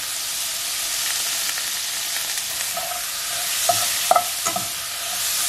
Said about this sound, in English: I'm going to throw some butter in. And about a tablespoon of garlic